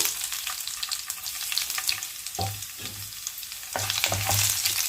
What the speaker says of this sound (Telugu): ఇలా వేగిన తర్వాత చిన్నులపాయ రెబ్బలు దంచుకొని వేసుకున్నానండి.